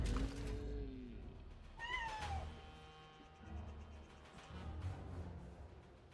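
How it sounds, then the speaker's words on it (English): A pet cat meows and fusses on her exercise wheel, a couple of rising-falling cries standing out over a steady background hum, with quieter rumbling wheel noise between. "Can y'all hear my little cat in the background? She's on her wheel, making quite a fuss."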